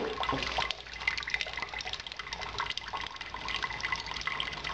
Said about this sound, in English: we pull the bag out, let it drain, and we just bring it to a boil